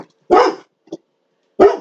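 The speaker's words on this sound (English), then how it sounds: "You don't even know why you're barking." A dog barks indoors at home: two sharp, loud, close barks about a second apart with a soft huff between them, in an otherwise quiet room.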